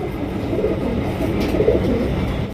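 Racer pigeons cooing, a low steady murmur of soft coos filling the whole stretch, close and moderately loud with no voices.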